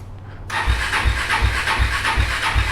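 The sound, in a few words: KTM RC390 motorcycle engine cranking slowly, cold start on race fuel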